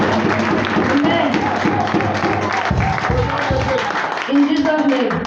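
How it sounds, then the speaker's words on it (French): Church congregation clapping for Jesus Christ during a bilingual French-English prayer service, dense rhythmic hand claps filling the room under a loud mix of voices and music, steady throughout with a brief surge near the end. "Clap for Jesus Christ."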